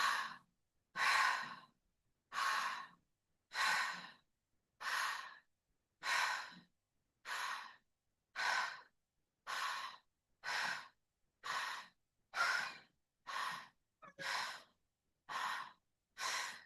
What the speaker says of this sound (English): take a deep breath, comes from the intention of breathing into your belly to help relax the nervous system